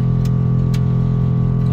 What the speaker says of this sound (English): if you can hear my compressor run in the background